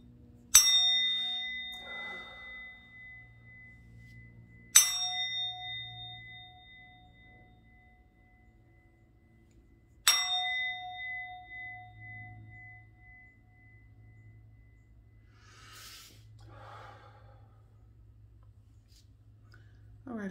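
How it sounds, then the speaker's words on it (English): Three clear bell rings spaced about five seconds apart, each a bright ringing tone that decays slowly over a low steady hum. "I'm gonna ring the bell."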